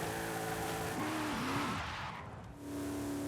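A 2019 Ginetta G10 RM with a drag tune does a burnout in Forza Horizon 5. The engine drones steadily and loudly with a faint tire squeal, dipping briefly before surging again.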